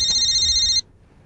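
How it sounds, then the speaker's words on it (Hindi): A telephone gives one close, loud electronic ring of under a second, then cuts off abruptly into quiet room tone. "ओफो, एक तो ना ये फोन भी,"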